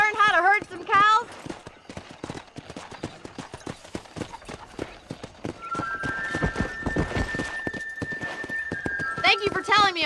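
Horses clip-clopping at a run while herding cattle in the video game Red Dead Redemption, steady hoofbeats throughout with a neigh and whinny near the start and end, and voices talking over the riding.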